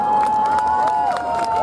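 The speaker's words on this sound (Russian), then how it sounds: "Это овация, друзья." Concert crowd at the Circle of Light festival in 2016 gives a sustained ovation outside a lit pavilion, with cheering and applause forming a steady roar under held musical tones for the whole stretch.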